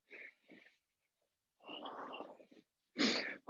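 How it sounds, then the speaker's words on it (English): During a neck-health exercise session, a person breathes forcefully through the nose in short wheezy bursts: two quick sniffs, then a longer exhale and a sharp, loud snort, all close and otherwise quiet. "Working on my nose breathing."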